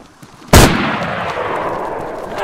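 A single loud gunshot in the video game DayZ cracks sharply. It is followed by a long, rumbling echo that fades slowly, with no talking.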